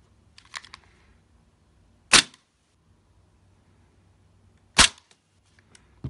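An airsoft pistol fires .20g BBs through a chronograph, two sharp isolated cracks about two and a half seconds apart with a third at the very end, plus faint handling clicks in between.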